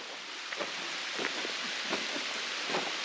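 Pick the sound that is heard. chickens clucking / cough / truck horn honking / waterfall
waterfall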